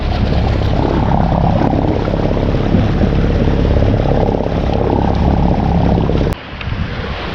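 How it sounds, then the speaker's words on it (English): Sailboat engine running steadily while motor sailing across open sea, a loud, continuous low drone with wind noise over it that drops abruptly near the end, with no talking. "Still got the engine running obviously because we need to be motor sailing at the minute."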